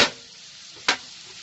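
Bacon in a hot pan gives two short, sharp bursts of sizzle, close and fairly quiet, with a faint hiss between them.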